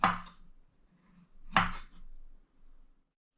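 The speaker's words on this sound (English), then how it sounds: "you can just right here use a knife, kind of trim it off like that" A knife chopping through the top of a kohlrabi on a cutting board, two sharp, close cuts about a second and a half apart, each followed by a brief scrape, with no talking.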